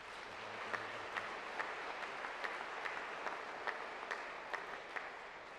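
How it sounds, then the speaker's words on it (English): Faint, distant applause from a large political conference audience, a steady wash of clapping with a few sharper claps standing out at regular intervals. "Conference, let's applaud the work they do for us."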